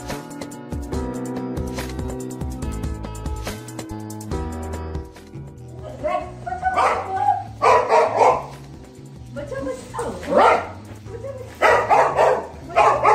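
A dog barks while guarding its owner at a shop ATM. Music plays alone at first, then loud, repeated barks come in rapid bursts over the second half.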